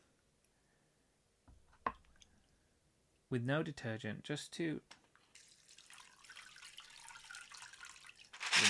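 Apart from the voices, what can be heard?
rinsing Lego pieces in clean water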